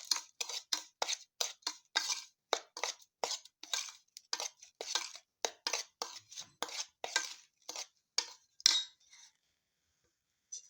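Eggs and other omelette ingredients are whisked in a bowl, giving a quick rhythmic series of tapping, clicking strokes that stop near the end, close and fairly quiet, with no voices.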